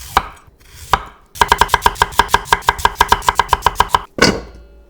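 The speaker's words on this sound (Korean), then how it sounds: "먼저 고구마 1개를 한 입 사이즈로 빚어 썰어 담고" A knife chops a sweet potato into bite-size pieces on a cutting board, about twenty quick even strikes close up, with a few separate cuts before and after.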